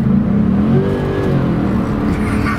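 A Mercedes-Benz 560 SEC C126 coupe accelerates hard on kickdown. Its engine drone is loud and close, and its pitch climbs steadily throughout with no talking over it.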